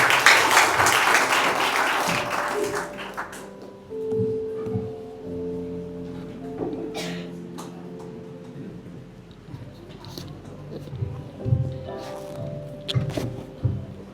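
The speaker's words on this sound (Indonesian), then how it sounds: "Beri tepuk tangan untuk Bapak Roni." A burst of applause at a church anniversary service fills the opening seconds, loud and dense, then fades into a room with scattered thumps and murmurs.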